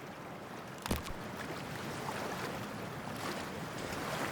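A character wading into cold, toxic water in Cyberpunk 2077, with a brief splash near the start followed by a steady wash of lapping water and ambient surf-like noise, faint and without talk.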